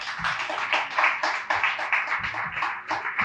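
Clapping from a church congregation during a Spanish-language sermon: continuous rhythmic handclaps with a steady beat, moderately close and alone.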